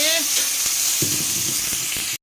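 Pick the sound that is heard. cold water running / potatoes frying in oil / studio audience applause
potatoes frying in oil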